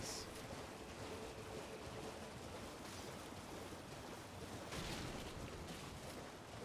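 Steady, full-bodied rushing of a waterfall in the Elden Ring: Shadow of the Erdtree game world, a continuous broadband roar holding even and unbroken throughout with no talking over it.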